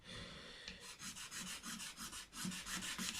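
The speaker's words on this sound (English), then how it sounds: "Just lightly scraping that layer of dirt" A blade scrapes a layer of dirt off the fretboard of a vintage Japanese Commodore guitar during a refret, in a series of about a dozen close, rhythmic rasping strokes with no talk.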